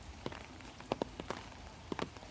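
Rain falls outdoors beside a meadow and a lake in summer, with scattered drops tapping a surface over a soft, steady hiss, quiet and close.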